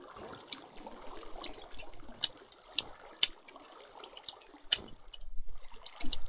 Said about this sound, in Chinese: 水声